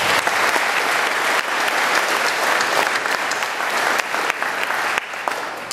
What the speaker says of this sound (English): So if we'll give him a round of applause as well.